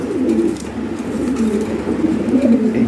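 Toy Lahori pigeons cooing in a loft, a steady overlapping stream of low, throaty coos that continues at moderate loudness without any speech.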